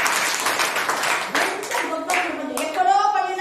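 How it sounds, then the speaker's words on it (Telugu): A church congregation clapping in praise of God, a loud crowd applause that rises in bursts of claps, with a voice heard faintly under it. "గట్టిగా చప్పట్లు కొట్టి దేవుని స్తుతించండి."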